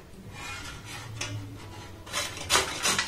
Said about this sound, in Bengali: তো আমি মিডিয়াম ছিদ্র দিয়েই কিন্তু পেঁপেটাকে খুব ভালোভাবে গ্রেট করে নেব।